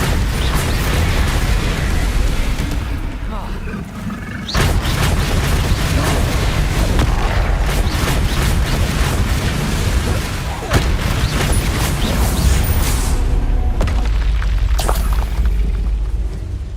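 Repeated Bombarda spell blasts during a goblin battle in Hogwarts Legacy, loud booming bursts over a constant roar of combat, with a voice speaking at points.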